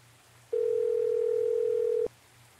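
Telephone dial tone in a video game, a single steady electronic hum lasting about one and a half seconds before cutting off abruptly, heard over a faint low background drone.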